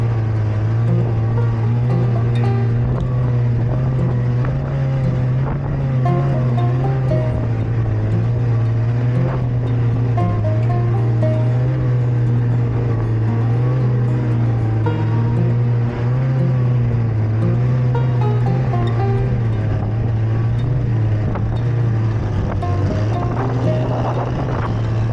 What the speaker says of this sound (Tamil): நாங்கள் திருப்பியும் மேலே ஏற ஆரம்பிச்சிட்டோம்